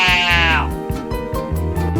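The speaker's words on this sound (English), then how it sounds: "Sheep. The sheep says baa." A sheep bleats in a farm-animal lesson for children, one long wavering baa up close followed by low rhythmic music underneath.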